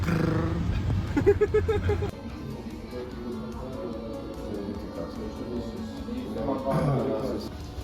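Dachshunds bark and whimper in a short burst of yips, then quieter whines and a rising whimper near the end, heard up close over a steady background with some voice-like sounds mixed in.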